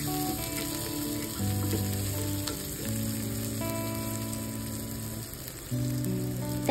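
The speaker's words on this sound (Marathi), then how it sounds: "कांद्याला थोडंसं परतून घ्यायचं आहे।" One medium onion, sliced lengthwise, sautés in a pan with a steady, close sizzle and crackle, joined by a background music bed with sustained tones and no talking.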